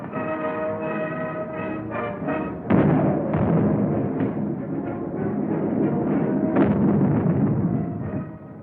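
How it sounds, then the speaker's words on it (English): Mortar and artillery fire in a World War II battle at San Pietro, heavy booming blasts and a dull continuous rumble, with a few louder detonations standing out over the steady roar. "Both times they had come up against a wall of automatic weapon, mortar, and artillery fire."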